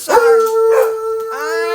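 A dog howls and bark-yowls up close, drawn-out tonal wails in two or three loud pulses with a rising whine at the end.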